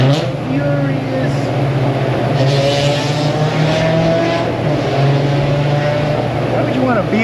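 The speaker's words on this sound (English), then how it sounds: "Why would you want a BMW to sound like that?" A loud BMW engine roars and revs in a busy auto repair shop, heard continuously over a fan's steady hum, with people talking underneath.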